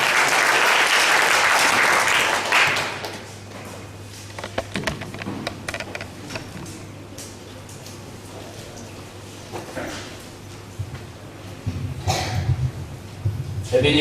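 A burst of applause welcomes a speaker at a gathering and lasts about three seconds, then fades into a quieter room with scattered shuffling and handling noises. Someone speaks afterward.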